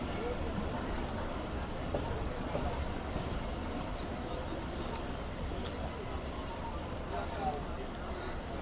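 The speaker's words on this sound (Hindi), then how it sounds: "तो ये शायद दीना रेलवे स्टेशन पर अप्रोच बना रही है ट्रेन" Islamabad Express train rolling toward Dina railway station, a steady dense rumble of wheels and carriage noise with faint high squeals, heard from inside the moving train.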